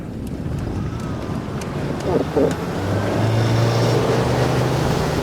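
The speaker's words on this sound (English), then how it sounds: "When you give it some throttle, it gets right up." A 2022 Grand Golden Line G650 RIB motorboat engine drones under wind buffeting, its tone rising steadily as it accelerates onto plane, with a brief rattle partway through.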